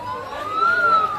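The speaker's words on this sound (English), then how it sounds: "The ambulance is here and it's turning around." An ambulance siren wails steadily at moderate volume as the vehicle turns around, its tone sliding slowly upward and back over a low background rumble, with no talk over it.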